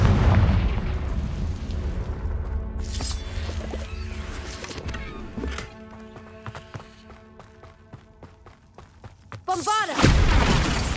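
A Confringo fire-blast spell cast in Hogwarts Legacy during gameplay, heard as heavy booming blasts and rumbling impacts over busy game noise, with a sharp whooshing burst near the end.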